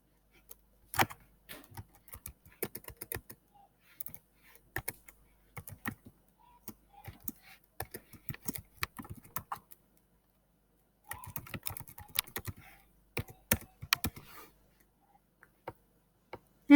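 Intermittent typing on a computer keyboard, entering an email address as a slide title, with crisp close keystrokes in short runs broken by silent gaps and no speech over them.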